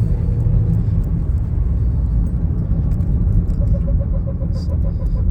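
A car driving with no brake fluid gets more throttle, its engine rumbling steadily and loudly from inside the cabin, with a faint higher tone rising late in the clip and no speech.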